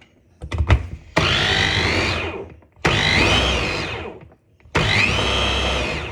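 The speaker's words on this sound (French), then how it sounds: "on remélange un petit coup avec le mixeur" Hand blender remixing a homemade toilet gel after white vinegar is added, three loud whirring bursts of a couple of seconds each with brief pauses, preceded by some handling knocks.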